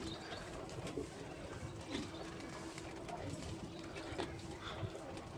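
Soft, low pigeon cooing repeats faintly against a steady hiss of background noise.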